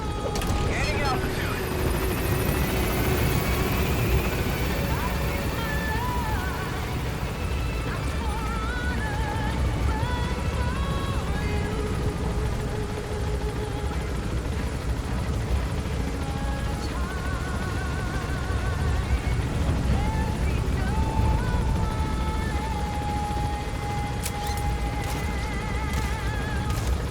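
A helicopter in Metal Gear Solid 5 drones with a continuous rotor and engine roar as it climbs, loud and steady throughout, with game effects layered in.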